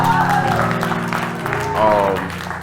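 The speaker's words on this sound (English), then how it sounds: "Can we give a hand clap of praise to the Lord above? Let's make some noise for the Lord" A church congregation claps and applauds during an MLK celebration service, a dense wash of hand claps filling the room while a voice speaks over the top, the clapping swelling again near the end.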